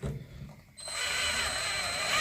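Drill bit biting into a seized clutch bleed nipple on a Laverda 750SS motorcycle: a sharp rise after a quieter lead-in into a steady, loud, high-pitched grinding whine that holds to the end.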